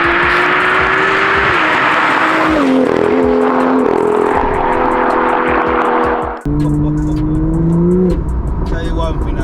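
BMW M2 with a 3-litre straight-six turbo engine, revving loud and close with rising and falling pitch through several gear changes, a brief cut near the middle, then pulling hard again.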